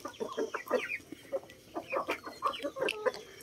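Heritage chickens cluck and chatter close by in a backyard coop, a busy run of short, overlapping clucks and squawks with no talk over them.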